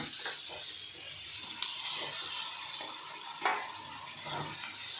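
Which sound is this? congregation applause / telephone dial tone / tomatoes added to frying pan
tomatoes added to frying pan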